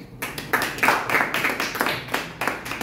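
Congregation clapping hands during a church Sunday worship service, a steady run of fairly loud group claps with broad, roomy texture and no talking over it.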